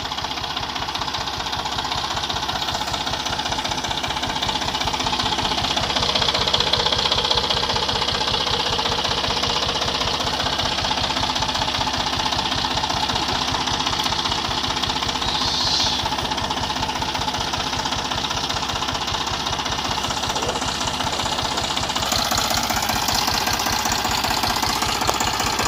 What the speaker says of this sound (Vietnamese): Đang phay phay lúa cả nhà, đang phay lúa, phay được một đợt ít thôi nhưng mà bị lầy mất rồi, chỗ này lún quá.